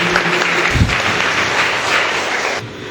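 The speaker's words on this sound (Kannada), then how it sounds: "ಚಪ್ಪಾಳೆ ತಟ್ಟಿ ದೇವರಿಗೆ ಸ್ತೋತ್ರ ಕೊಡಿ ಜೋರಾಗಿ" A church congregation at a Tulu Eucharistic Mass claps together, a loud, sustained wash of applause filling the room with one brief heavier thump near the start.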